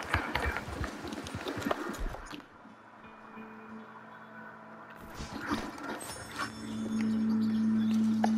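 Horse hooves clip-clopping in the video game Red Dead Redemption 2, a steady rhythmic gait at moderate level with a brief quiet stretch in the middle, mixed with game ambience and a sustained tone near the end.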